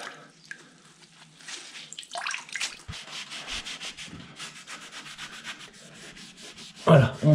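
A wrung-out damp cloth is rubbed over a surface during plaster and silicone work, giving a steady close scrubbing and swishing sound in quick repeated strokes, ending with a louder wet rub, with no talk.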